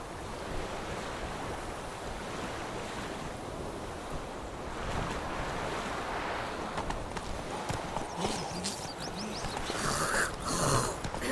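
Hooves of Roach, a horse in The Witcher 3, clip-clopping steadily on a path amid a continuous wash of wind and surf-like ambience, louder near the end.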